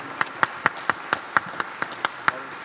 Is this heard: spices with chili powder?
no